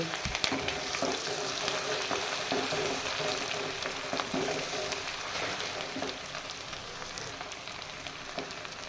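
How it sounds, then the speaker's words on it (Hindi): Garlic-ginger paste fries in a pan for a dal mash tarka, a steady close sizzle with faint crackles and occasional stirring scrapes running throughout, no voices. "लहसुन अदरक का पेस्ट भून चुका है"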